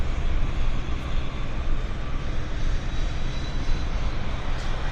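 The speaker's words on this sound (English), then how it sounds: "this is Westjet taxiing off the I believe it's the Shell Aero Center ramp" A WestJet airliner taxis off the Shell Aero Centre ramp at Vancouver Airport, its engines giving a steady, broad roar that holds constant without a break.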